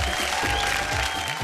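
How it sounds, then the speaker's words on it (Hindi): A studio audience at a televised women's contest show claps loudly and continuously to welcome contestants, a dense, even wash of applause with a faint voice underneath. "जोरदार तालियों से स्वागत करी"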